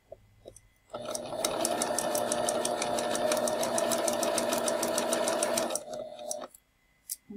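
A sewing machine stitching a seam with a 3/8-inch guide, running in a fast, even mechanical chatter for about five seconds before slowing and stopping, followed by a few brief clicks.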